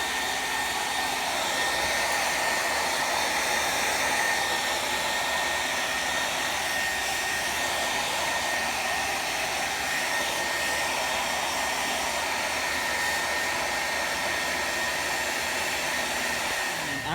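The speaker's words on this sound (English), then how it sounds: "you just take your hair blow dryer, I put it on high, and I just work with it" A hair blow dryer running on high while heating a German low boot, a constant loud whooshing whine of fan and airflow held steady from start to finish.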